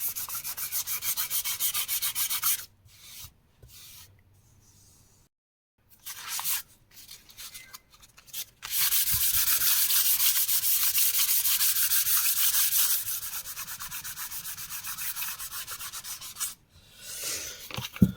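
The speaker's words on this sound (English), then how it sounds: "So sanding with the grain, nice and gentle, and it won't take much sanding." Steady rasping strokes of sandpaper rubbing with the grain over a wooden Les Paul style guitar body, sanded by hand, with several short pauses and a long stretch of continuous close-up sanding.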